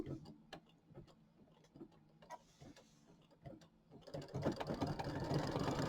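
A computerized embroidery machine stitches a red placement line for a bench pillow wreath design. Close, rhythmic mechanical ticking builds into a louder, steady whirring run.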